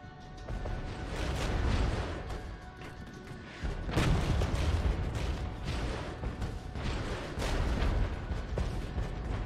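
Artillery fire in the Regiments video game, heard as heavy booms and crashing blasts in a dense, continuous roar of battle, loud and sustained with no clear gaps.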